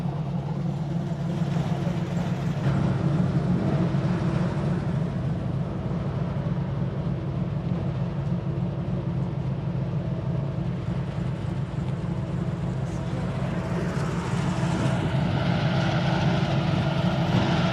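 A recovery truck's engine runs in a steady low drone while it pulls a car back off-road. The rumble is continuous and close, with faint rattles over it and no voices.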